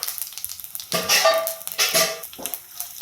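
Cumin seeds hit hot oil in a pan and burst into a loud, close sizzle that swells in several bursts over a few seconds, with faint clinks of a spoon or pan in between.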